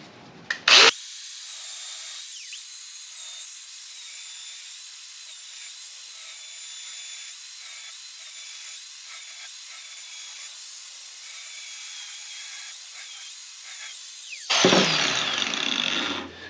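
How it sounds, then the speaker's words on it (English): A cutoff wheel on a small power tool grinds through steel for a forged pigtail steak flipper, one steady, loud, high whine held for about fourteen seconds, with a brief spin-up at the start and a clatter as it stops. "Got a little buck wild with the cutoff wheel there"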